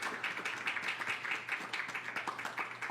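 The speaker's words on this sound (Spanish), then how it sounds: "para quien pido un fuerte aplauso" An audience at an academic talk on water issues gives a round of applause for an introduced guest, a quiet, scattered patter of individual claps rather than a full roar.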